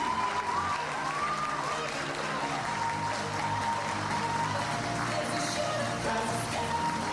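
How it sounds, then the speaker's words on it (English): Audience applause at a school graduation ceremony for the class of 2015, steady broadband clapping filling the whole stretch over a murmuring crowd, with a faint voice talking underneath. "Ladies and gentlemen, a round of applause for your best performance"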